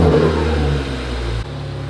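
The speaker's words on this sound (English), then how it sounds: "You're gonna hear it turbo like crazy." Ford Focus ST engine with turbo, heard close as a loud revving drone that falls away and then cuts abruptly to a lower steady idle hum.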